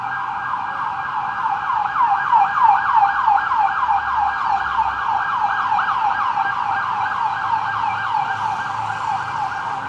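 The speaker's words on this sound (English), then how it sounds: "Wait for that ambulance to go by." A loud wailing ambulance siren sweeps up and down repeatedly, close by, over the rumble of street traffic on a city street.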